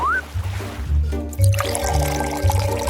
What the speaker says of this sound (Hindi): थोड़ी देर इंतजार करें और फिर तैयार घोल को सिरप में डालें